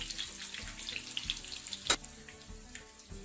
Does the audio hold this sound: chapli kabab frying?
yes